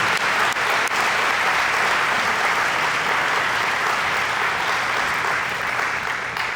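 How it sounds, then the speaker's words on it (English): A room applauds a group of awardees at an installation ceremony, producing a steady, dense wash of clapping that stays loud and even throughout. "Let's give all these awardees another round of applause."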